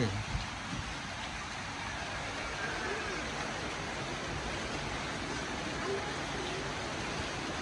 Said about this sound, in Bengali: ওয়াও বৃষ্টিটা কত সুন্দর হচ্ছে।